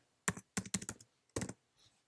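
Computer keyboard keys tapped in four short bursts of clicks with brief pauses between, close and fairly quiet, alone with no talking.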